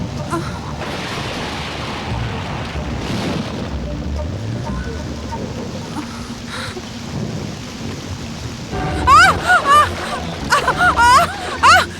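In a film scene, rain pours and wind blows in a steady wash with low rumbling, and loud close voices break in over it near the end.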